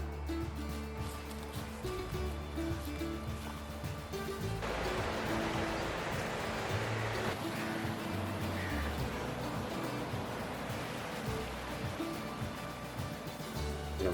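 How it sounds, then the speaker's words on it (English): A Smoky Mountains stream near a farmhouse in Sevierville, Tennessee, rushes and rumbles in a steady, dense wash of water that runs unbroken throughout, with no voices. "With the sound of water rumbling, we knew we were close to our destination."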